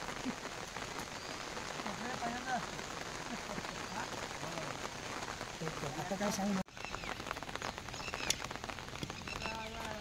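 Light drizzle falling over farm fields in rural Konkan during ploughing season, a steady soft patter spread evenly across the whole stretch, with a voice talking over it.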